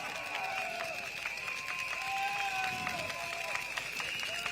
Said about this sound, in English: Please give a round of applause, Mr. Gabriel Lam